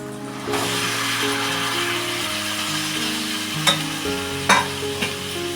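Peas, green beans and carrots frying with biryani masala for a vegetable biryani, a close, steady sizzle with a few sharp spoon clinks against the pan, over faint background music.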